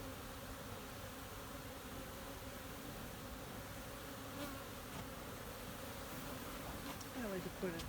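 Honey bees buzz steadily from an open hive as the inner cover is worked, a dense close drone running throughout with a few louder individual bees passing near the end.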